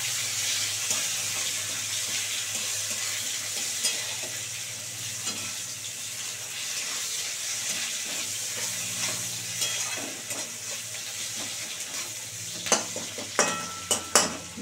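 Onion frying in oil in a pan with dried red chilies, bay leaves and five-spice, a steady close sizzle that gives way to clinks and knocks of stirring toward the end.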